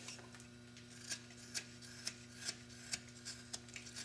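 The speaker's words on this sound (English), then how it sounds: "taking our knife and roughing up, carving off all the sawn areas" A knife carving a sawn wooden blank for a small carved coffee pot, heard as a series of faint, close, evenly spaced scraping cuts about every half second over a steady low hum, with no voices.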